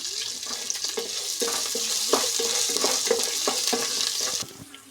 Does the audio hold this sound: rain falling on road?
no